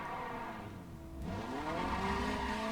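Acura RSX in the racing game Need for Speed World, its engine revving steadily and climbing in pitch, loud and close with a rising drone and no talk.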